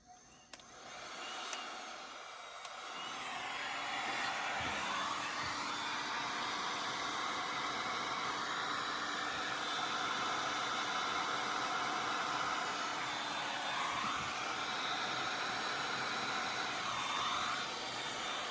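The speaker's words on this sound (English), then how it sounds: "now I'm going to take my little heat gun and with the blower attachment" Small heat gun with a blower attachment blowing across resin pieces, a steady airy whoosh that starts after a few quiet handling clicks and holds with slight sweeps as it moves, no speech.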